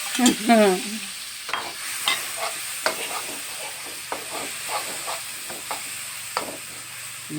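Beef being stir-fried in a hot pan for pad kaprao with holy basil, with repeated clattering spatula strokes and a continuous light sizzle, close and clear with no talking.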